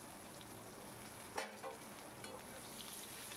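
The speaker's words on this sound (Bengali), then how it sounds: "তারপর আমি এর মধ্যে পেঁয়াজটাকে দিয়ে দিলাম।" Onion tipped into hot oil with a dried red chilli tempering for a Bengali pui shak dish, giving a soft, even sizzle with a brief clatter of stirring partway through, faint and without talk.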